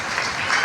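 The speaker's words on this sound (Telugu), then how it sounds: "ఒకసారి గట్టిగా చప్పట్లు కొడతాం." Audience at a Women's Day felicitation claps loudly, a short, close burst of dense, even applause.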